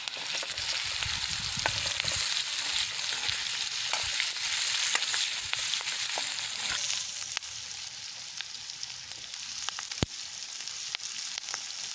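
Chopped large onions frying in a pan for a cashew curry, a continuous crackling sizzle with occasional sharp clicks of a utensil against the pan, and the hiss easing after a few seconds.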